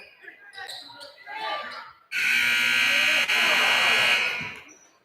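An end-of-quarter buzzer blares at a high school boys basketball game, Marion vs Moundridge, a loud sustained tone lasting about two seconds that cuts in after crowd and announcer chatter and then fades.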